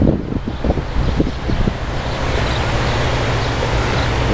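Waves from the Caspian Sea roll in, giving a broad, steady wash of surf mixed with gusting wind noise on the microphone, loud and close, with no voices.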